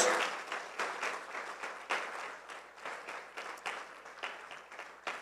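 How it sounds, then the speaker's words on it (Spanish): A church congregation claps for Jesus during a Spanish-language sermon, the applause fairly quiet and a little distant, coming in uneven bursts that swell and fade. "Dale un mejor aplauso al Señor Jesús."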